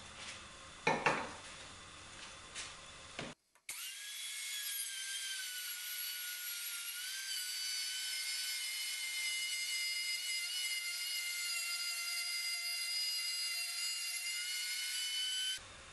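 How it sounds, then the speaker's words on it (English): Router plowing a shallow dado in wood for a miter saw station, a high, steady motor whine with a faintly wavering pitch, sustained and close after brief handling knocks and a short pause. "use it as a guide for my router to plow out this dado here"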